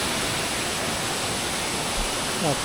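Constant roar of rushing water from the Erakampalem waterfall near Rajahmundry, broad and steady with no pauses.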